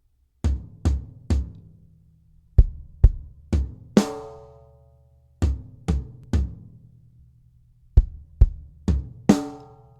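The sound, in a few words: gospel drum fill on toms, kick and snare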